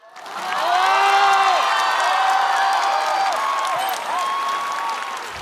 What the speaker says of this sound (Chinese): 我们掌声有请